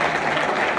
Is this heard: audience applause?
yes